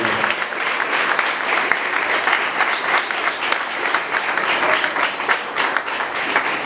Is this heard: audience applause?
yes